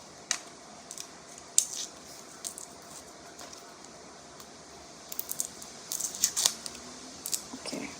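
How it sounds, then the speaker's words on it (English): Knife chopping food by hand on a cutting board in a home kitchen while making a cashew steak stir fry, with scattered quiet taps and short bursts of rapid cuts, faint and close. "It's fine, I'll mince it by hand."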